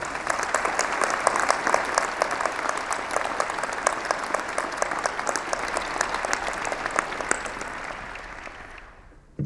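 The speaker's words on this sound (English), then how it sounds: "Let's give a round of applause to your parents, your siblings, your other family members, mentors, and friends with you here today that helped you get here." A commencement audience at a winter graduation ceremony claps in a full, sustained round of applause that tapers off near the end, with no talking over it.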